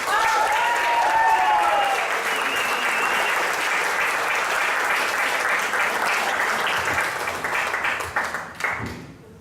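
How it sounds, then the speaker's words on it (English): Loud, dense audience applause and cheering at a stand-up comedy show as the comic is introduced, holding steady before thinning out into scattered claps near the end, with voices mixed in. "Please, everybody give a huge round of applause to Mr. Blye."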